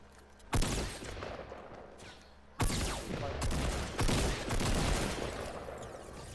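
Gunfire in the Fortnite Battle Royale video game: loud, close shots burst out at irregular intervals, a sharp crack followed by volleys of rapid repeated shots that keep ringing and overlapping through to the end, with no talking.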